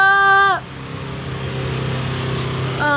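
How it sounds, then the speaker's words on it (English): Lawn mower droning steadily in the background outdoors, a low, even engine hum that continues under brief bright tonal sounds at the start and end. "you can hear a mower in the background"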